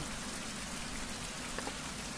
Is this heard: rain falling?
yes